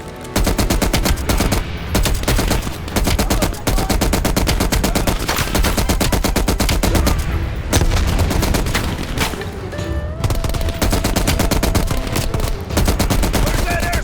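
SAW machine gun fire in the Call of Duty Cold War campaign: loud, relentless rapid automatic bursts filling the whole stretch with only brief gaps, dense and close, as in a heavy battle.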